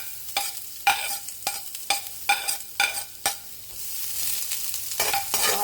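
Onions and garlic sautéing in a pan for a miki soup with patola, a run of sharp, rhythmic stirring scrapes over a soft sizzle, then a steadier fry toward the end, close and without talk.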